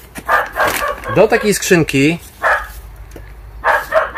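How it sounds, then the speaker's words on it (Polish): A gardener's dog barks in short bursts behind someone talking about planting balcony geraniums, the barks close and mixed under her speech. "pies ogrodnika, który nam przeszkadza bardzo często w nagraniach."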